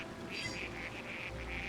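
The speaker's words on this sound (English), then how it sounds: "I hear quacking" A duck in the New Pokémon Snap video game quacks repeatedly in a quick, regular series of short, nasal calls over a low ambient game background.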